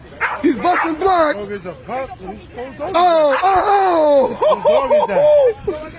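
Pitbulls fighting, with snarling barks and high, sliding yelps and whimpers, close and loud, under excited shouting from several people throughout.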